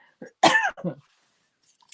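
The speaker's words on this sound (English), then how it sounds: "And all of a sudden I've got this cough." A single sharp cough bursts out close by, followed by a brief rougher exhale, then near silence.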